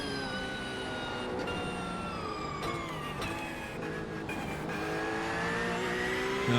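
GT3 race car engine at Imola in a VR racing game, chasing a Ferrari: a loud, sustained high-revving drone with rising pitch sweeps and quick dips at gear changes, continuous throughout with no talk.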